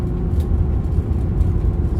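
Road traffic hums past in a small country town in Victoria, Australia, a steady near rumble of car engines and tyres with no talking over it.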